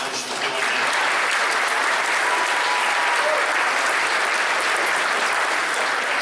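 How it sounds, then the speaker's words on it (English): A packed room at a Mount Dora, Florida Chamber of Commerce networking dinner breaks into loud, sustained applause, dense overlapping clapping that holds steady from start to finish with no voices rising above it. "A big round of applause for you"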